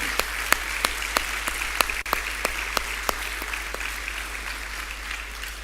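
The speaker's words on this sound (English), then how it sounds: "So let us applaud all the graduates who have received the honors today." Scattered, fairly sparse claps from a graduation ceremony audience, each one sharp and evenly spaced over a low steady hum, fading slightly toward the end.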